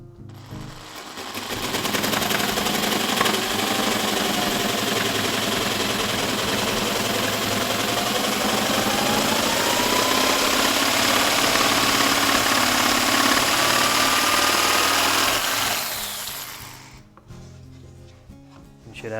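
A power saw rips through an engineered hardwood floor plank, spinning up into a loud, sustained whining buzz with a rising pitch for about fifteen seconds, then winding down and stopping.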